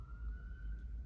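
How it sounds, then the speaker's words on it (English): Emergency vehicle siren heard from outside a planning commission meeting room, a faint steady tone drifting in the distance over low room rumble. "I hear sirens"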